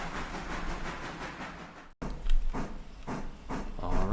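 A long freight train running through a hairpin curve in Railroader, a steady rolling rumble and hiss with repeated heavy pulses from the wagons and a brief cut partway through.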